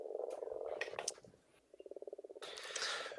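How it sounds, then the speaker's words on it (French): Many frogs croak together in a dense, clicking chorus that pulses rhythmically, pausing briefly before resuming with a burst of rapid, evenly spaced croaks and a brighter, louder swell at the end. "c'est bizarre comme son, beaucoup de grenouilles, qui chantent ensemble"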